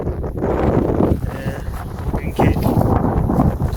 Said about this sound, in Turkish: çok rüzgar çıktı artık